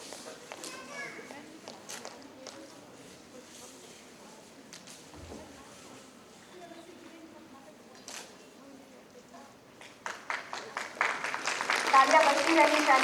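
Audience applause at the launch of a Singhbhum history book: sparse, scattered claps and shuffling at first, then a burst of dense, close clapping swelling loudly toward the end, with some voices underneath.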